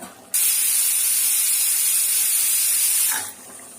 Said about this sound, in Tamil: சாப்பாடு குக்கர் விசில் இறங்கிச்சு